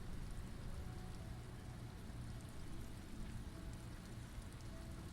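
Rain falls in the video game Disco Elysium, a quiet, steady hiss of drops that runs evenly from start to finish with no speech.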